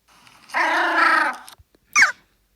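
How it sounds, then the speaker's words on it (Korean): A sleeping puppy makes noises in its sleep: one drawn-out whining whimper followed by a brief sharp yip, close and clear in a quiet room. "지금 잠꼬대 소리 들리세요?"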